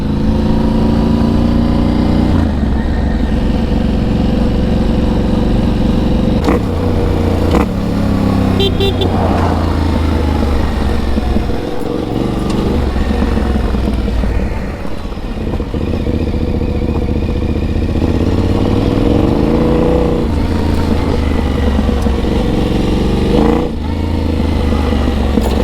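A Yamaha Tenere adventure motorcycle rides through a country town and accelerates, its engine droning loud and steady throughout with shifting pitch and a brief dip midway, no talk heard.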